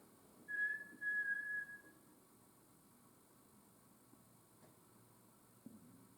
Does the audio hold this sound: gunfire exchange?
no